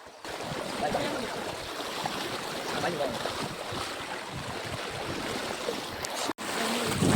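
Rainwater rushing steadily over a flooded village road during heavy rain in Gujarat, a loud continuous broadband wash of flowing water that carries on without pause and briefly cuts out near the end.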